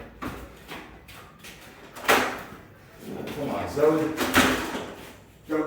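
A house door is opened and shut to let a small pit bull outside, with thumps and a sliding knock amid close, urgent talk from a man coaxing the dog.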